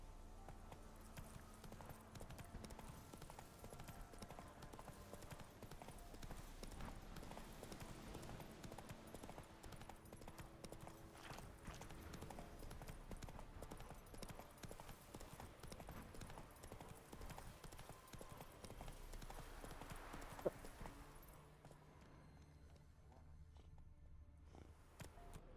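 Steady rhythmic clip-clop of horse hooves galloping along a road in The Witcher 3: Wild Hunt, continuous and fairly close, with faint background music and a sharp thud near the end.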